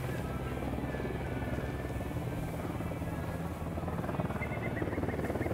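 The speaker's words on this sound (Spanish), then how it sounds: "Se acerca un helicóptero al suelo." A helicopter approaches in the video game Ghost Recon Wildlands, its rotor thumping in a continuous, loud rhythmic drone that fills the whole stretch with a faint engine whine above it.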